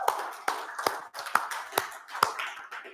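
A church congregation claps in a loose, steady rhythm, each sharp hand clap landing about every half second, fairly close and clear with no voices over it.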